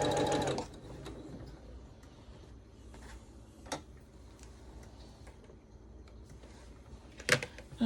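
A sewing machine stitches quilt block pieces for a barn star quilt, giving quiet, rapid ticking mechanical chatter at close range, with a louder burst at the start and a few sharp clicks and knocks scattered through.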